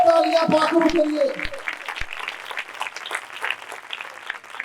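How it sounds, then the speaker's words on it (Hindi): Loud applause from a church congregation during a live prayer service, dense and sustained throughout, with a voice speaking over the opening moments. "जोरदार तालियां बजाइए"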